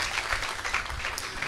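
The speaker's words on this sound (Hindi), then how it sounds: "एक अच्छी ताली बजाए" A crowd at a doctrine seminar in Narayanghat, Bharatpur, breaks into a short burst of dense, fairly loud clapping that lasts about a second and a half.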